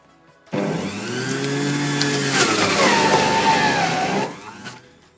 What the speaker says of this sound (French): Comme la plupart des centrifugeuses, son fonctionnement est assez bruyant.